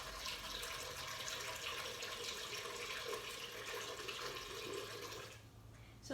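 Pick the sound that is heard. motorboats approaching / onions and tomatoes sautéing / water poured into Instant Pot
water poured into Instant Pot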